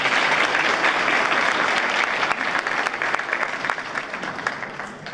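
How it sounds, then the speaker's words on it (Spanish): Dense, steady applause from a conference audience welcoming three panelists onto a personal data protection panel, a loud continuous wash of many hands that tapers slightly toward the end. "recibamos con un aplauso a Vanessa Díaz Rodríguez, Rodrigo Esteban Maza y Gustavo Parra Noriega"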